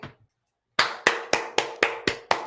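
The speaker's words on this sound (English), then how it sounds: "Clap it up, everybody." A short pause gives way to seven sharp hand claps in a steady, even rhythm, close and crisp, each about a quarter second apart.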